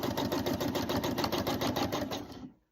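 A sewing machine stitches a quilt with its presser foot down, a fast, even mechanical chatter close up that runs steadily for over two seconds before stopping abruptly.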